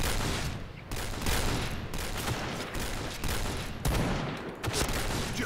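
Point Blank sniper rifle shots ring out amid a dense, noisy game battle, with several heavy blasts standing out over constant gunfire and mechanical clatter.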